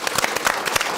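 Crowd applause on a French television talk show greets a caricaturist, a dense burst of steady clapping from a studio audience throughout.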